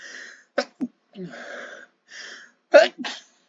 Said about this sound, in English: I'm talking about the sneeze.